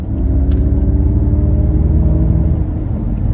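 Ford Mustang Mach-E GT electric car accelerating on a freeway, a loud, steady cabin rumble of road and motor noise with a rising whine layered on top, continuous throughout with no talking.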